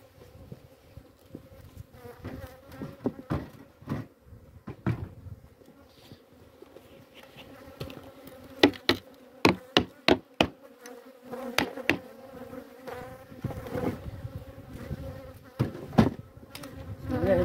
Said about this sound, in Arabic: لدينا نحل في العاسلة، سأرفع العاسلة فقط.